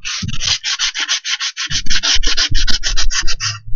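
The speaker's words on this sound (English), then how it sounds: "we're going to use some much rougher sandpaper, and we're going to rough it up here" Rough sandpaper rubs a helmet in quick, rhythmic back-and-forth strokes, loud and close, a dozen or more scratchy passes in steady succession.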